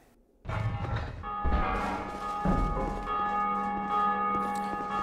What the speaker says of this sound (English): And this should ring the bell.